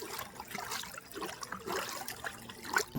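Water running and trickling as it is filled at Ma Kankali temple in Kankalitala, Santiniketan, a soft, uneven gurgle at moderate distance with no talking.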